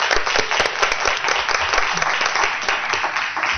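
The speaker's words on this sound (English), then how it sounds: "I just want to applaud you too." A school board meeting audience applauds the superintendent. The clapping is dense and continuous, with bright hand claps and a little crowd murmur throughout.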